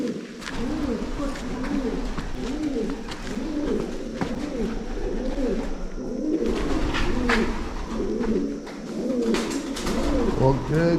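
Continuous rounded cooing from several doves in a cave in Hocking Hills State Park, Ohio, overlapping and echoing, steady and fairly close throughout.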